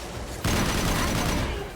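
Gunfire in the Mass Effect video game erupts suddenly as a loud, dense burst of rapid shots and keeps going for over a second, with no speech over it.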